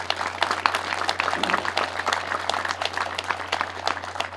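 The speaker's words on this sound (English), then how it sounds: "Give a nice round of applause to our two guests." Audience at a 1916 commemoration ceremony in Ballyboy applauds two guests, with steady, dense clapping of moderate loudness that continues throughout over a low electrical hum.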